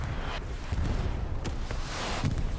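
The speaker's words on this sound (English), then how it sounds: "Slight explosions there." Explosions in the video game Hell Let Loose: several low, distant booms and sharp cracks scattered over a rumbling battlefield background, moderately loud with no clear talk.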